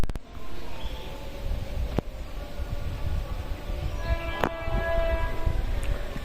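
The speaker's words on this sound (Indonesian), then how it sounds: "ini dia KA Sri Tanjungnya akan masuk stasiun Malasan jalur 1" The Sri Tanjung train pulls into Malasan station, heard as a rumbling approach with wind noise, sharp clanks and a faint high tonal whistle or squeal, all at moderate distance.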